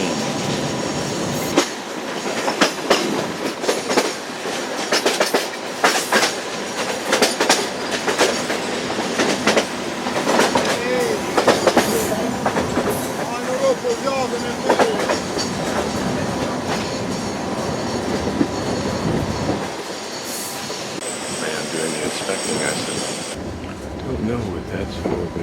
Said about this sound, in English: I'm guessing we might be slowing down for oncoming train